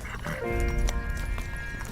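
Horse-drawn char-à-banc cart pulled along an unpaved road, with a horse's hooves clip-clopping close by, a whinny-like tonal call in the middle and a steady rumble beneath.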